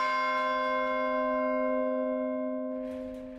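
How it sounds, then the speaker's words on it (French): A church bell down in a valley sounds one strike, a clear, rich ringing tone that hangs and slowly fades with no other sound around it. "La cloche de l'église en bas dans la vallée sonna 11h15."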